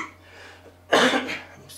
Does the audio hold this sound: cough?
yes